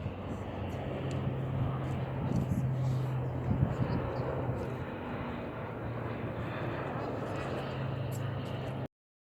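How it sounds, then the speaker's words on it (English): C-130 military aircraft fly past during the 80th D-Day commemorations, a steady low droning roar that stays distant and constant over wind and faint voices. "some C-130s flew by"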